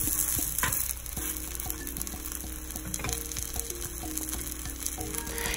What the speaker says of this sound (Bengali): একটু উপর থেকে তেল ছড়িয়ে দিয়ে আর একটু ভেজে নেব। তাহলে কি হবে, পিঠেটা বেশ মচমচে হবে।